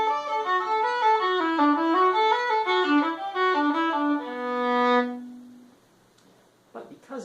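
Irish traditional tune Walsh's Hornpipe played as a straight reel on a single melodic instrument, even running notes with no swing, solo and close, ending on a long held low note before a brief breath or shuffle.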